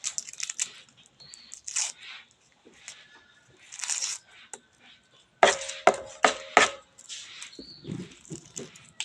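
Knife chopping onions on a cutting board in a home kitchen while preparing lunch, a quick burst of sharp rhythmic chops following sparse quieter cuts and handling noises, close and fairly loud.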